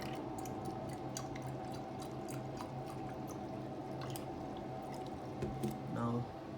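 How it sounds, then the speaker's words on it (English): Water poured into a container on a liquid level monitoring setup, a soft continuous trickle with splashes and a brief louder gurgle near the end, faint talk underneath. "let's pour some more water in the container."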